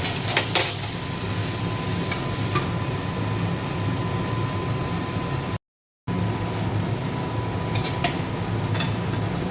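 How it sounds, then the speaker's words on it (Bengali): Potatoes frying in a pan and being stirred, a steady broadband sizzle with occasional scraping clicks, continuous apart from a brief gap. "আলুটা ভাজা ভাজা হয়ে গেছে,"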